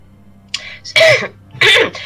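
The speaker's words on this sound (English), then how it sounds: "It's got more to do with my chronic cough than anything else" A person with a chronic cough clearing the throat and coughing: a short rasp, then two harsh, loud coughing bursts close to the microphone, with a faint low hum between them.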